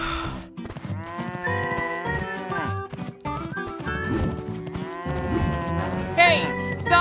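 A toy farm diorama cow moos repeatedly in long, drawn-out calls, loud and close, with a busy layered backdrop of other animal-like voices and playful sounds throughout.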